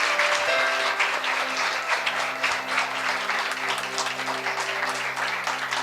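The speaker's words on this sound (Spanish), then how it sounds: "Yo quiero que ustedes den un aplauso a nuestro hermano Alessandro." A church congregation applauds a newly appointed deacon, giving dense, sustained clapping that stays loud and even across the whole stretch, with a few faint voices mixed in.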